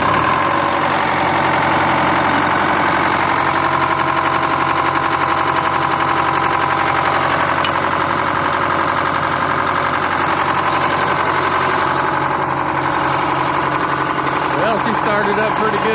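A Terex TS-14B scraper's heavy diesel engine idles loud and close just after starting, a steady rumbling drone with a faint knock throughout.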